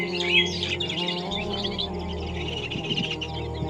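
Mynas chirp and twitter in a brief burst of bird calls over a low background hum, fairly close and with no speech.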